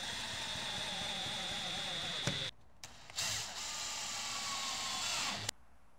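Festool power sander working wooden furniture feet, a steady close whine running almost continuously with two brief breaks in the middle before cutting off near the end.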